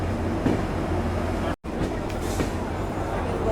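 Karwar-Yeshwantpur Express at Subrahmanya Road station gives a steady, close rumble of wheels and carriages, with a brief dropout midway before the rolling noise resumes.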